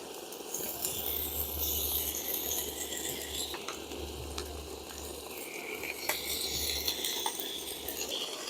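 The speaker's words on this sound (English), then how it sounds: "I'm also going to grab a couple strips of bacon and throw in there as well to cook those too." Bacon strips frying in a pan for a bacon cheeseburger, a constant close crackling sizzle with occasional pops and a low background hum, no talk.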